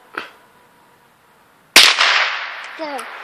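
A single sharp crack from a Cricket youth rifle fired outdoors, loud and close, decaying into a short echo; a brief faint click comes before it and a faint voice-like sound follows.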